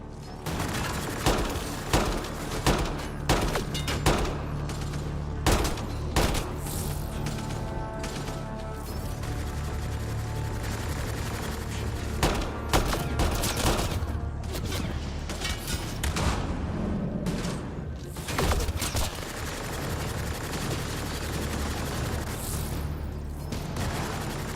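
Gunfire at Kett enemies in Mass Effect: Andromeda, with repeated loud shots and bursts in uneven clusters, sharp impacts and booms over a droning game backdrop.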